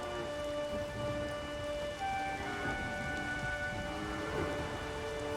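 Steady rain and rumbling thunder from a storm in The Witcher 3: Wild Hunt, a continuous loud downpour with low rolls underneath and faint tonal game ambience, no voices.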